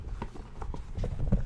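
Horse hooves clip-clop in a short, irregular run of knocks at moderate loudness, with no talking over them.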